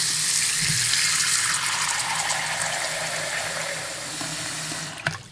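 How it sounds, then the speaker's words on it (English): Tap water pours steadily into a sink being filled for an underwater test of a Lifeproof nuud iPhone 5s case, a loud, hissing rush that fades slightly before a brief clunk near the end. "Now that we have the sink filled,"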